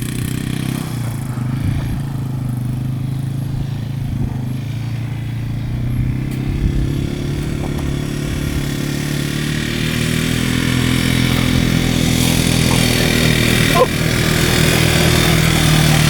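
A small ATV engine running steadily outdoors, close by, with a continuous buzzing drone that grows slightly louder and fuller toward the end.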